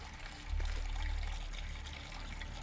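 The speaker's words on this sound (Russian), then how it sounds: "Ну, быстрее наливай, блин" Liquid being poured in the game Schoolboy Runaway, a steady trickling, splashing stream that swells after a moment and runs on continuously, moderately close over a low background rumble.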